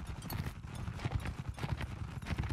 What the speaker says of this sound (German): Da kommt mir ein Pferd direkt entgegengeritten.